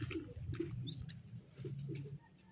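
A large pigeon of the white grizzle type coos softly nearby in a low, rolling burble, repeated across the moment and alone without speech.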